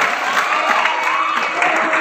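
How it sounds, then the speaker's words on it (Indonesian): Brisk applause with some crowd noise at a junior high school graduation ceremony for SMP Al-Mutaqin in Tasikmalaya, loud and continuous for a couple of seconds. "tepuk tangan untuk anak-anak 21"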